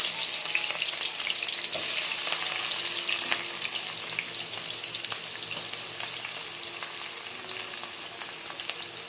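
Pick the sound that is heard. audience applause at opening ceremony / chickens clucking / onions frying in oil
onions frying in oil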